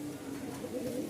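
A white female Lakka pigeon, a running hen, coos softly and steadily at close range, a low continuous murmur with no other sounds over it.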